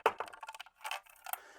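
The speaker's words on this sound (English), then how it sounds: "as you run over them, you can hear them sort of clicking then, so you know they're in place" Rotary encoder knobs on an Arturia Origin synthesizer, repaired after a faulty encoder replacement, give a quick run of small, crisp plastic clicks and ticks up close, in uneven bursts with short gaps.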